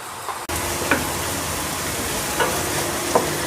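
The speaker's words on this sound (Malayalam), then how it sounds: "അടിച്ചു വെച്ച മറ്റേ മല്ലിച്ചപ്പിൻ്റെയും മല്ലിച്ചപ്പ്, മുളക്, ഇഞ്ചി അതൊക്കെ കൂടെയുള്ള മിക്സും ഇട്ട് കൊടുക്കുക. എന്നിട്ട് ഇത് നല്ലോണം ഇളക്കണം." Sliced onions fry with a ground paste of coriander leaves, chilli and ginger in a pan for egg biryani, hissing steadily while a spoon stirs through them with a few scraping knocks; no talking.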